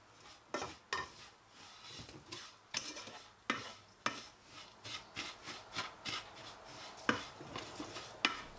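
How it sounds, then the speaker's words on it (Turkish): A spoon scrapes and rubs through a thick mixture of crushed walnuts for kadayıf dessert, a quiet series of irregular scraping strokes and soft knocks against the bowl, close and alone. "Çok un halinde olmadan onları da içerisine ekledim ve güzelce karıştırıyorum"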